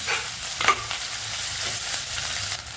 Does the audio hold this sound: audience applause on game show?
no